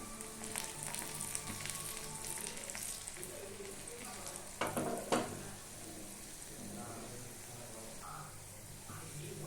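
A dried red chilli drops into hot tempering oil for a bitter gourd tamarind kuzhambu, a steady close sizzle and crackle with a brief louder burst midway and faint background movement.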